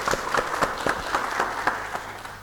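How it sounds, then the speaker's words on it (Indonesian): A crowd claps in applause for Pak Ma'ruf, deputy chair of the PWNU East Java executive board, at a Nahdliyin gathering; a brief, steady burst of many hands, moderately loud, tapering slightly toward the end. "Tepuk tangan untuk Pak Ma'ruf."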